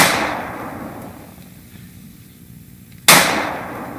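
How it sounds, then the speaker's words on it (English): Two sharp gunshot cracks, each followed by a long decaying reverberant tail in a room; the first tail fades over about three seconds before a second loud, abrupt shot. "one of the ways to put an impulse into a sound system like a room is to fire a gunshot"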